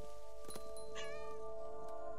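A cat meows in a video game, a single drawn-out, wavering cry in the middle of quiet in-game ambience with faint tonal background sounds.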